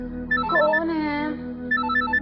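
A telephone ringtone chirps in short repeated bursts, with a brief voice cutting in midway, in an indoor domestic scene; the ringing is clear and fairly close.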